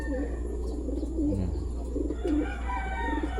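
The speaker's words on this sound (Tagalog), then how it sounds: "Bumalik yung dalawang kalapati natin." Soft, low cooing from two returned homing pigeons repeats over a constant low hum, close by and moderately quiet.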